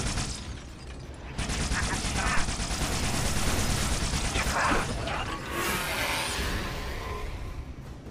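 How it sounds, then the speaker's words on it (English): Needler fire in the Halo: Spartan Assault video game: a dense, rapid mechanical rattle of shots that runs almost the whole time alongside battle sounds and game effects, fairly loud and steady. "Okay, almost out of needler ammo."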